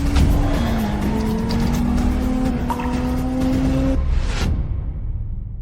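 Racing cars roar past at close range with loud, sustained tire squeal and skidding, a steady engine tone running for several seconds before it cuts off abruptly into near silence.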